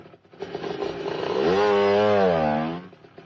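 A motorcycle engine revs up close by, its pitch rising and holding as a loud drone before dropping off.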